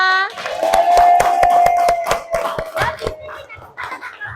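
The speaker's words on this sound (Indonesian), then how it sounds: "Tepuk tangan untuk kita semua." A short burst of hand clapping from a group, mixed with voices singing or chanting along, fairly close and lively.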